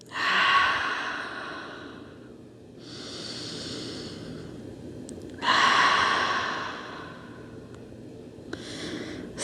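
Slow, audible breaths during a yoga pose, three long airy exhalations through the mouth spaced a few seconds apart with softer inhales between, close and clear.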